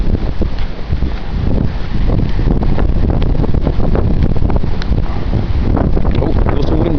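Steady wind roaring across the microphone outdoors during a February blizzard, a loud continuous buffeting rush with gusty surges and no pauses.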